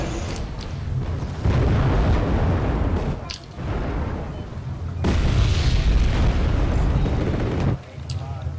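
Rocket artillery in a video game pounds the ground with deep, rumbling explosions that roll together into long, loud bursts, under faint voices talking.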